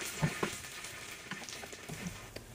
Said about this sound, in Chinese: 煎至两面金黄即可